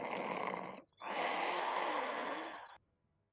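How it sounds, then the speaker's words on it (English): Heavy snoring, likely added as an effect during a tabletop role-playing game set in an icy cave: two long, rasping inhaled snores separated by a brief pause, then quiet. "And then you hear snoring."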